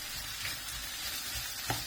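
Chicken sizzles steadily in a hot pan, a continuous bright hiss with a soft stir or scrape near the end, close and fairly loud.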